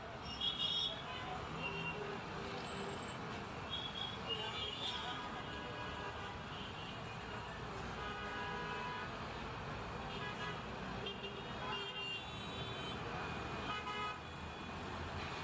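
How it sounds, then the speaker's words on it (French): A car rolling through town traffic with a steady road and engine rumble, and short horn toots sounding now and then over the constant noise. "Elle monte dans la voiture. Elle prend la route du domicile."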